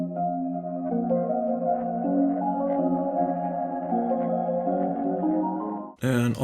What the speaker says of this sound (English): And then I have this little atmospheric lead sound.